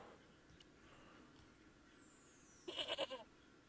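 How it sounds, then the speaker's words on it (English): A short goat bleat from the Broken Sword video game rises near the end, a few wavering pulses over a quiet background hum. "I just heard a goat."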